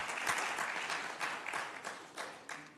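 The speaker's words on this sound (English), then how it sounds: "Let's give this panel another big round of applause, everybody." Sustained audience applause at a business summit session, dense many-handed clapping with a few louder bursts, steady and fairly close for the whole stretch, with a faint voice underneath.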